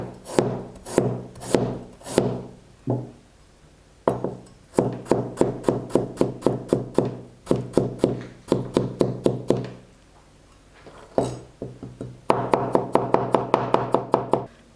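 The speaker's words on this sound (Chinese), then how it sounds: "姜切末。" A knife mincing ginger on a wooden cutting board, close and crisp, in rapid rhythmic runs of chops separated by short pauses, with a faster burst of chopping near the end.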